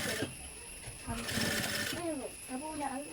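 A sewing machine stitching the sleeve edge of a kids' Madras checks top, its rapid mechanical chatter running in short bursts while someone talks over it.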